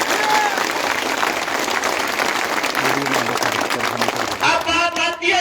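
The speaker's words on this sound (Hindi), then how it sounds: "मैं चाहता हूं झुंझुनू के नाम की जोरदार तालियां होनी चाहिए एक बार" Loud, sustained crowd applause fills the space at a live public speech in Jhunjhunu, a dense wash of clapping that carries on throughout with faint voices underneath.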